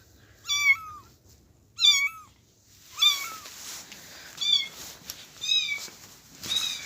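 Several kittens mew in a henhouse, high thin calls in short bursts of two or three, repeating roughly every second, near and fairly loud over a quiet background.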